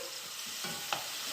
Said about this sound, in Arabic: اللي هي الكبد والجوانب. اسيبهم كده يستووا مع بعض، يتشوحوا تشويحه كده